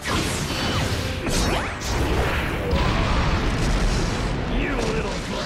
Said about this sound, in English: Fire-style Phoenix Fire Jutsu!